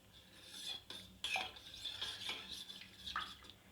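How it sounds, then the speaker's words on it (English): Ingredients are stirred and mixed in a bowl with a utensil, producing faint, close scraping and clinking strokes in an irregular rhythm. "So now we have to mix all this."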